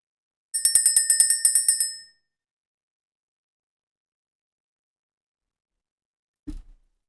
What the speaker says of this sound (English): We're getting ready to ring the bell, clear the energy